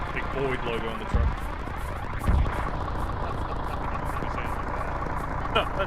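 Transport truck engine in the military game Arma 3, a steady low rumble running throughout with two brief heavier thumps, heard under ongoing talk.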